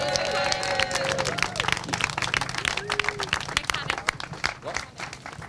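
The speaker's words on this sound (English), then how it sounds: "Huge round of applause, please, for IAME Cadet Saturday final winner for Fusion Motorsport, Zach Drummond." Crowd applause for the winner of a cadet karting final at a British kart championship round: scattered, uneven clapping runs under a busy outdoor mix of chatter and noise, moderately loud and broken rather than sustained.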